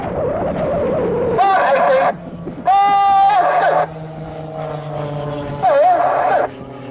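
Aerobatic display aircraft flying low at around 100 feet over the Southport Air Show, their engines rising in loud whining bursts with pitch bends as they pass, alternating with steadier drone, over an open-air background.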